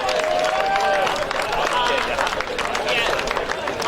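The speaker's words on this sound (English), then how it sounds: "a round of applause to the players for a terrific exhibition of footy" Outdoor crowd applause for the players after a local senior Australian rules football grand final between Diggers Rest and Woodend-Hesket, a steady broad wash of clapping with crowd murmur and faint whistle-like tones, running continuously at a fairly close, full level.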